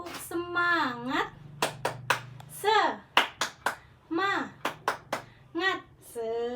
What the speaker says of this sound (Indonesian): Ibu punya tepukan namanya tepuk semangat